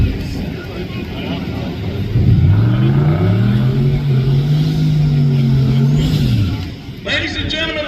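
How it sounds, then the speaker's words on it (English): Cleetus McFarland's drag car doing a burnout at the Sick Summer cheap car challenge finals, a loud close engine surging into a sustained high-rev roar with tire noise, then cutting off. "Let's let him do the burnout here."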